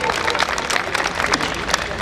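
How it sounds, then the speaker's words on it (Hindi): An audience at an Aam Aadmi Party women's and workers' gathering gives a speaker a crowded, steady round of applause. The dense clapping continues throughout, with a murmur of crowd noise mixed in. "जोरदार तालियों से इनका स्वागत करें"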